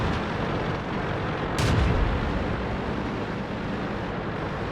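Tank cannon fire in the World of Tanks video game on the Steppes map, a loud boom over dense rumbling battle ambience, with no talk.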